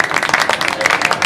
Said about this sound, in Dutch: Ja, een applausje waard zeker.